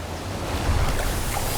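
River rapids in the wild give a steady, dense roar of rushing water, loud and continuous with no pauses or voices.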